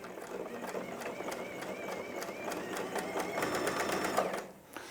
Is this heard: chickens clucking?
no